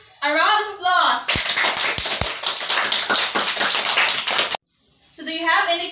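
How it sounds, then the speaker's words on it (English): A classroom of children gives a round of applause, several seconds of dense, close clapping with a few sharp taps, bracketed by a teacher talking before and after. "So let's give everyone a round of applause."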